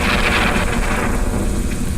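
A Stardew Valley thunderstorm fills the scene with a loud, continuous rumbling wash and hissing rain-like noise, dense and unbroken, with no voices over it.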